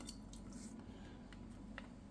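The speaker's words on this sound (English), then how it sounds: "let's get water in this" Water pours into a glass jar in a kitchen for rooting sweet potato slips. It makes a faint, steady liquid trickle with a few soft drips and clinks, close by and quiet, with no talk over it.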